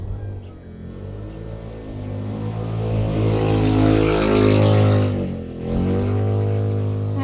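A passing motorcycle gives a loud, droning engine hum with strong tonal harmonics that swells as it nears and bends in pitch as it goes by, then fades away, with no speech.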